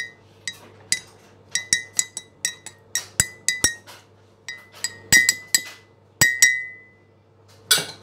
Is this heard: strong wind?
no